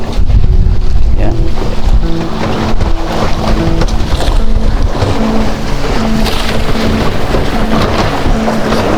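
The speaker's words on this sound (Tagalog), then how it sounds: "malakas-lakas ang amihan ngayong umaga" Strong northeast monsoon wind sweeps across a fishing boat at sea, a loud steady roar of buffeting air over a low droning hum, with no break for the whole stretch.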